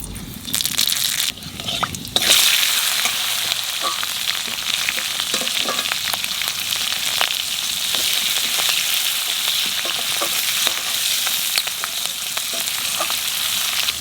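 Green chillies drop into hot oil in a frying pan with a burst of loud sizzling. A steady, close crackle of frying follows and carries on without a break, with faint stirring clinks and no talk.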